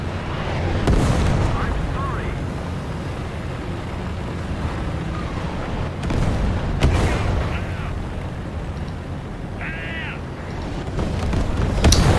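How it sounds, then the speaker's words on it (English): Artillery fires in the tank game War Thunder, a few heavy, booming blasts spaced seconds apart over a rumbling background of battle noise. "I like this sound that artillery actually makes"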